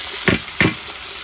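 Fresh taro leaves go into a pan of fried onion and green chilies, giving two quick bursts of hot-oil sizzle and stirring over a steady low frying hiss, close and fairly loud, with no talking.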